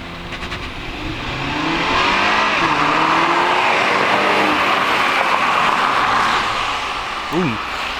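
A BMW engine revs and accelerates, heard from inside the car as a loud, sustained rising roar with shifting tones, and a brief tire chirp near the end.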